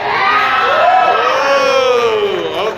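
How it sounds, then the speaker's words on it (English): A live audience at a drag queen ranking event cheers loudly as a crowd, with whoops and yells rising and falling for a few seconds and filling the space. "that was a pretty big cheer right there."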